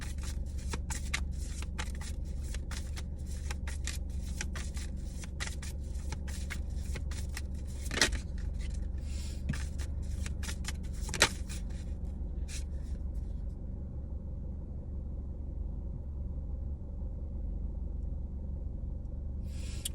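Cards are shuffled and drawn from a deck in a rapid run of soft riffling snaps and flicks over a low steady rumble. The cards fall quiet near the end, leaving only faint background hum.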